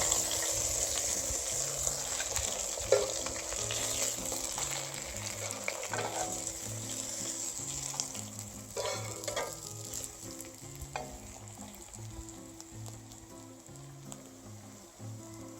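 Marinated Rohu fish pieces frying in hot oil, making a continuous loud crackling sizzle with occasional pops and utensil knocks, and a low rhythmic hum running underneath, with no talking.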